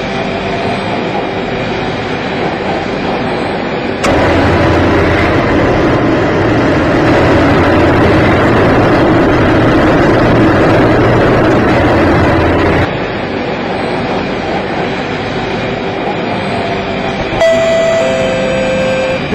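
An Intermarium Metro train runs toward Bayshore Park, a steady rail rumble that swells louder through the middle and eases back toward the end, with a few faint tonal chimes near the close.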